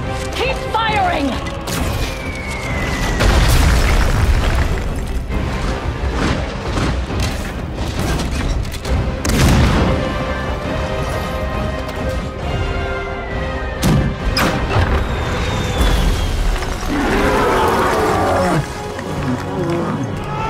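Weapons fire and explosions in a World of Warcraft cinematic battle: heavy booms, crashes and roars rolling through a dense, loud scene, with shouted voices and orchestral score mixed in.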